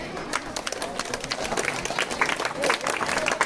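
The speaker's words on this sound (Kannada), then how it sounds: "ಚಪ್ಪಾಳೆ ಹೊಡಿ." A crowd claps together in a dense, continuous patter of applause at an outdoor village festival gathering, fairly loud and close, with some voices mixed in.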